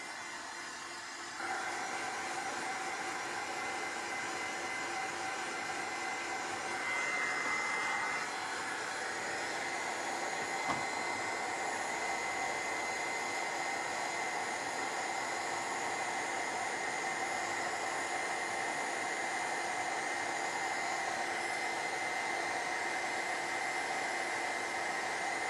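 A heat gun or hair dryer blows continuously while drying a metal-and-rust frame finish, a steady whooshing roar that holds for a long stretch, shifting slightly in tone once or twice.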